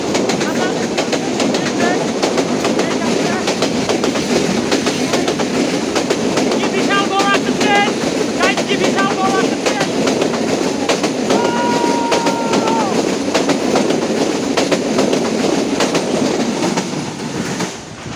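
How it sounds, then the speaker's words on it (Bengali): A long train passes close by through the Lawachara National Park rainforest in Sreemangal, giving a loud continuous rumble with clattering wheels and brief squealing tones, fading slightly at the end. "বলতে না বলতে ট্রেনটা আমাদের মাঝখান দিয়ে চলে গেল"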